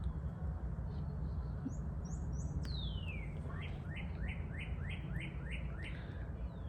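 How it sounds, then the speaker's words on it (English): Outdoor cardinal song: a few thin whistles, then a downward slurred note and a quick series of repeated sweeping chirps, moderately close, over low ambient hum. "I love the cardinals."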